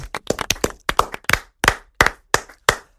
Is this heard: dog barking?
no